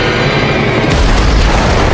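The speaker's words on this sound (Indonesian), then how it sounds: "tiba-tiba mobil itu pun meledak membuat tubuh Murphy mencolot dan klenger." A car explodes in a film with a heavy, loud boom, then a sustained roaring rumble of blast and debris with no voices.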